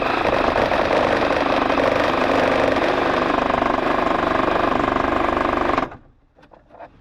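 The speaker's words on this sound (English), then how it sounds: "Am I using a metal Sawzall blade to cut plastic?" Reciprocating saw fitted with a metal-cutting blade chewing through plastic, a loud, steady buzzing rasp running continuously for several seconds before cutting out abruptly, followed by faint handling noise.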